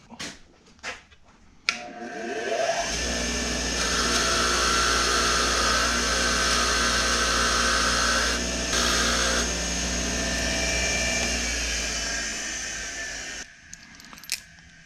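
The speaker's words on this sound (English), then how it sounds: "I'm actually going to wire wheel mine, get them nice and clean before I put that on." A wire wheel cleans hub assembly bolts for a 2011 Cadillac DTS, a continuous loud whirring buzz held for about twelve seconds after a few clicks, then spinning down, close with no talking.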